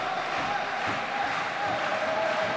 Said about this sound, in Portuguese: O público vai aplaudindo a compasso, vai incentivando o seu capitão